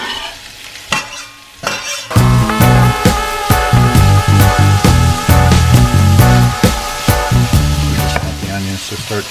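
Onion and garlic dropped into shimmering hot oil for a Trinidadian-style curry, a loud, dense sizzle with a rapid run of crackles and pops, close up after a brief quiet start.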